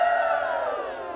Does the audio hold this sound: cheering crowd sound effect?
yes